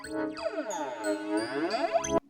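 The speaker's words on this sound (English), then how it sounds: "basically this is the sound of the flanger" A brief sample run through the flanger effect in GoldWave, giving a chiming tone whose whooshing comb sweeps arc up and down for about two seconds before cutting off abruptly. It plays alone at moderate volume.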